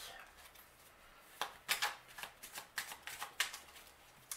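A deck of Toltec agreements advice cards being shuffled, a run of crisp papery riffles and flicks in irregular bursts, close and fairly quiet with no talking.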